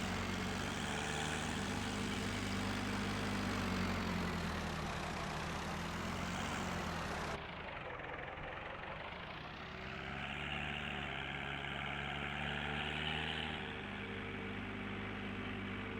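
A petrol tractor engine in Farming Simulator 19 drones steadily at a low, even pitch, with a brief dip in the middle before it returns. No one speaks over it.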